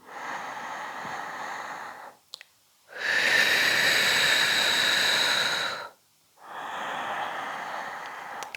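Two long breaths during a Pilates leg-circle exercise, a steady airy hiss with a louder, longer inhale in the middle, close to the microphone and with no talking over it.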